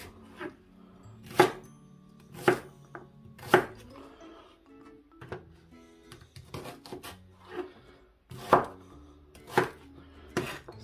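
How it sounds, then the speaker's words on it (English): Onions are chopped on a cutting board for butternut squash soup, with about nine sharp, close knife thuds spaced irregularly, roughly a second apart, over a quiet kitchen background. "When you cut the onions, it doesn't matter on how big you do them."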